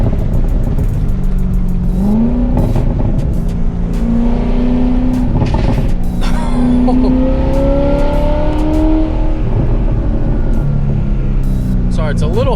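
Chevrolet Corvette ZR1 driving with the top open, its engine note rising and falling as it accelerates, with wind and road rumble throughout and a person talking over it.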